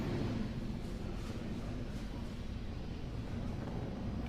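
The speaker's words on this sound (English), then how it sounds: "Falcon 9 actually throttles itself down as it passes through max Q and then throttles back up once we're through it" SpaceX Falcon 9 rocket engines during ascent on a Starlink mission, a steady broadband roar with heavy low rumble, continuous and distant-sounding, with no voices.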